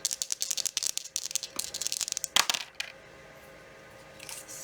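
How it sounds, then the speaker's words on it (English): Two dice clatter and rattle across a hard surface in a quick burst of small clicks and knocks, settling after a few seconds into quiet room tone. "maybe I'll just roll 1 dice this time so that maybe I can get one of the lower numbers"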